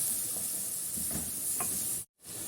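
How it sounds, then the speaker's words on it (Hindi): Spice masala roasting in a pan for dhaba-style moong dal tadka, a steady close sizzle with soft stirring scrapes, broken by a brief dropout near the end. "अब मसाले को इसमें भून लेंगे, अच्छे से इसकी भुनाई कर लेंगे।"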